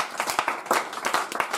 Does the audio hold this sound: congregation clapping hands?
yes